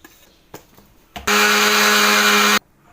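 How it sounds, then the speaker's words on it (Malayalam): A kitchen mixer grinder whirs through roasted coconut without water, starting after a few clicks and knocks, a loud steady motor whine for about a second and a half before stopping sharply. "വറുത്ത് വെച്ച തേങ്ങ നമുക്ക് അരച്ചൊന്നെടുക്കണം."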